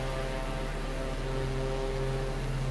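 Light propeller aircraft engine on landing approach over a lake among mountains on New Zealand's South Island: a steady, loud droning hum with constant pitch, unbroken throughout.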